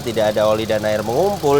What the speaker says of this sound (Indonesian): Dan ini suara mesinnya halus